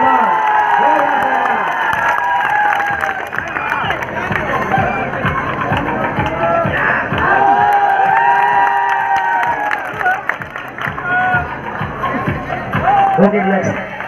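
A crowd at a bodybuilding show applauds and cheers, dense clapping and shouts filling the hall while an announcer speaks loudly over a microphone throughout.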